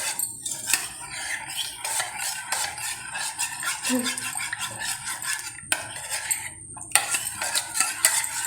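A spoon clinks and scrapes against a metal vessel while a milk powder and cornflour mixture is stirred, brisk repeated metallic taps and swishes, close and fairly loud, with a few short gaps.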